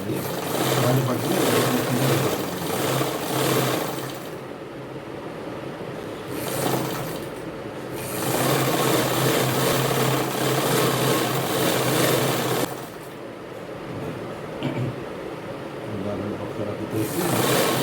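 A sewing machine top-stitches fabric in a home setting, giving a steady mechanical whirring hum that runs in long stretches and pauses between them, while someone talks throughout.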